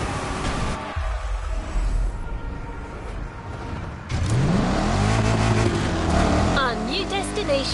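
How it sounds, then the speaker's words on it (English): A Koenigsegg hypercar engine in The Crew Motorfest revs and accelerates loudly, its pitch sweeping upward, rising into a sustained roar after a quieter stretch, with voices talking over it. "Koenigsegg, fastest hypercar of the day."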